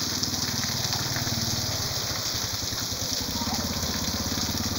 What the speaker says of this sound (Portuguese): É água demais.